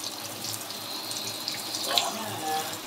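Water runs steadily from a shower in a home bathroom, a constant hissing spray at close range with a faint rise near the end, no voices over it.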